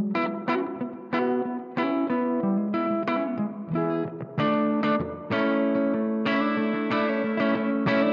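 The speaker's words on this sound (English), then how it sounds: "Now I'm going to move the reverb all the way up to the top so you can hear how much there is in there." Marshall Haze 15 guitar amp with its reverb turned fully up: electric guitar chords and notes ring out continuously, each strike trailing into a long, washy reverb tail, with no talking.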